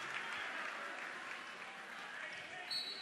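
At a high school boys basketball game, the gym crowd applauds a player heading to the bench, a fairly faint, distant spread of clapping with crowd murmur and a commentator talking over it.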